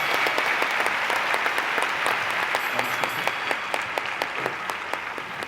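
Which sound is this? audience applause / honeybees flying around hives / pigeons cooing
audience applause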